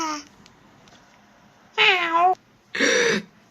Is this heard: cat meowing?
yes